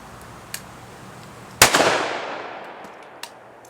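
A single loud gunshot from a Smith & Wesson M&P 2.0 10mm pistol on an outdoor range, cracking sharply and ringing out in a long fading tail, with a faint distant pop before and after.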